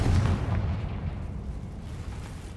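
Spell explosions from the video game Hogwarts Legacy, the Bombarda and Confringo blasts, land as a heavy low boom at the start and trail off into a rumbling, crackling decay.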